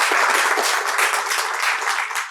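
Audience applause at an economic presentation, a dense, steady wash of many hands clapping continuously at fairly close range without any talking over it.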